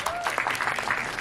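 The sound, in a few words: audience applause for Bhushan Kumar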